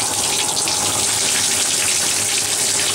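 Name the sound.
water running from tap to rinse dog in bathtub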